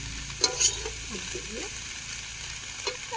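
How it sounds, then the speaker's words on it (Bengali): Vegetables and spices are stirred together in a frying pan, a continuous sizzle broken by a few spatula knocks and scrapes, with faint talk in the background. "ভালোভাবে সমস্ত সবজি মশলা ভালোভাবে একসাথে মাখিয়ে নিতে হবে, মানে নেড়ে নিতে হবে।"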